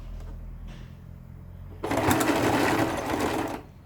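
Sewing machine stitching the strap onto a homemade cloth face mask, a quiet lead-in followed by a loud, close, fast motor buzz that runs for about two seconds and then stops.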